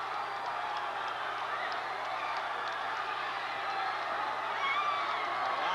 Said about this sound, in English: A lot of excited people, happy people in that crowd